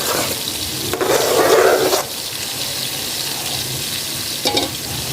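Garlic hits a hot pan with a sizzle, joined by stirring and scraping in a home kitchen; a steady frying hiss runs under short bursts of utensil movement, with no talking.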